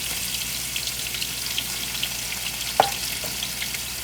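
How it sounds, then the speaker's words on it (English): Onions and spices for salmon curry stir-frying in oil, with a steady close hiss of sizzling and faint crackles, plus one sharp clink of a utensil on the pan partway through. "We're going to stir fry it a little bit, and then you can add in your garlic."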